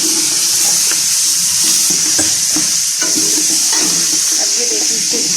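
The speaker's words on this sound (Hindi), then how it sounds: "पहले ये सारा डाल के चिकन इसमें डाल के ब्राउन करेंगे।" Chicken with turmeric and spices browning in a hot pan for a chicken curry, a steady loud sizzle with scattered stirring scrapes and clinks throughout.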